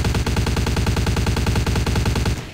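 Rapid gunfire from the video game Vampire: The Masquerade - Bloodlines rattles out in a loud, evenly spaced stream of shots for over two seconds, then stops.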